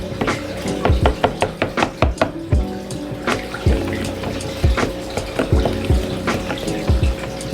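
Water in a backyard pool converted into a fish pond is stirred by hand, giving repeated close sloshing swirls and splashes in an uneven rhythm over a low steady hum.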